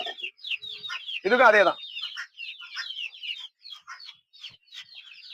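Hens cluck and chirp in a steady busy chatter, with a short burst of louder calling near the start and a voice speaking briefly over them, as feed is prepared.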